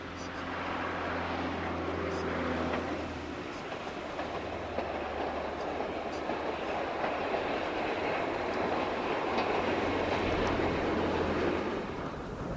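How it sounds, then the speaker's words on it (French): An ALN diesel railcar runs along island track in Corsica, Sardinia or Sicily, with a steady rumble and rhythmic clatter of wheels on rail joints throughout, heard from on board or close by. "Tous les services sont assurés par des autorails ALN"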